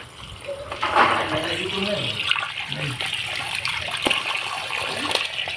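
Water poured into a snake burrow in a house wall gushes and splashes steadily throughout, close and fairly loud, while people talk over it.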